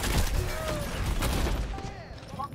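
Bursts of gunfire and explosive blasts come from an online shooter video game, loud and continuous, with a dense crackling volley that eases slightly toward the end.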